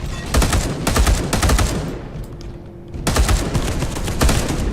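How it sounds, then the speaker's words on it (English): An assault cannon in the video game Space Hulk Deathwing fires loud, rapid bursts, close and dense. It pauses briefly, then opens up again, with no voices over it. "At the minute, the assault cannon's the only thing holding him off."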